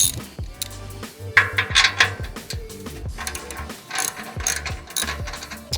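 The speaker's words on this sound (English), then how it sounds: "you have this clamp right here, and that takes a 5/8 socket. Just need to loosen it up." A ratchet wrench with a 5/8 socket loosens the muffler clamp on a Harley-style bagger motorcycle, its rapid metallic clicking coming in close bursts and pauses of repeated strokes.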